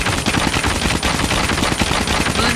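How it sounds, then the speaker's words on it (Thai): KN-44 assault rifle firing continuously in the mobile shooter game Call of Duty Mobile, a dense rapid string of loud gunshots with no pause across the whole stretch. "ถ้าเกิดว่าเรายิงปืนเนี่ยแรงดีดไม่ได้เยอะนะครับ"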